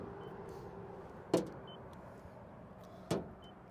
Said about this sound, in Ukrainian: Послухайте, як працює мотор коробка передач.